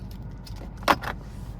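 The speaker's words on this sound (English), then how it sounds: "here's our key fob" A 2023 Nissan Ariya Engage key fob jingles briefly when handled: a short, close metallic clink with a softer rattle just after, over a faint low hum.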